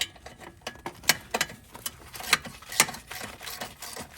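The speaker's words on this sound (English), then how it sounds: "get your 3/8 ratchet" A 3/8 ratchet works on the downpipe bolts of a BMW B58 engine, giving quick runs of sharp clicking pawl ticks at close range, uneven in pace with louder clacks mixed in, with no voices.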